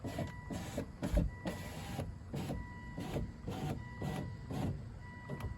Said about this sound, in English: So if I go ahead and put the window down, oof, did you hear that? It makes a terrible noise.